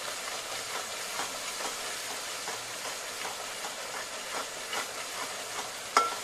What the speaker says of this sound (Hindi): सारी चीजों को हम चला देंगे अच्छी तरीके से।